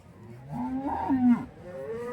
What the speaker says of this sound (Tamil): எக்கச்சக்கமாக கட்டி வச்சுருக்காங்க எருமைங்க மட்டும்